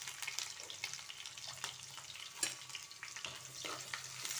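Onions sizzle in hot oil with whole garam masala in a pan, a steady bright crackle broken by a few sharper spatters and stirring scrapes, close and continuous with no talk.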